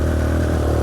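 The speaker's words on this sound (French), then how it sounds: "il suffit de mettre un coup de gaz et le quad va partir." A Yamaha 350 Raptor quad engine under throttle, a loud, close, continuous buzzing drone held through a short burst.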